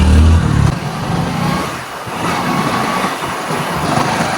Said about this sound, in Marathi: बघू शकताय आम्ही गाडी डायरेक्ट घातली वरती.